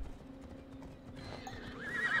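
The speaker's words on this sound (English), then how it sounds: "I'm gonna try, I guess, taking my horse over there." A horse in the video game Assassin's Creed Odyssey clip-clops along at a quick gait, then gives a loud neigh near the end, with no talk over it.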